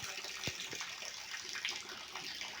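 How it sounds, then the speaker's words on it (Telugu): Heavy nonstop rain pours steadily outside a village house, a dense continuous wash of water with runoff flowing like a channel, even and unbroken throughout. "వర్షం అయితే ఒకటే రకంగా కొడుతూనే ఉంది"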